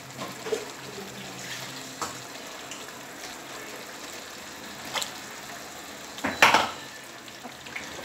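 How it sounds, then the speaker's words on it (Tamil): Water is poured into a pan of cooking chicken gravy with a low steady trickle and faint sizzle, ending in a brief louder splash near the end. "ஸோ தண்ணி விட்டு கொஞ்சம் நல்லா ஊற்றிக்கலாம்."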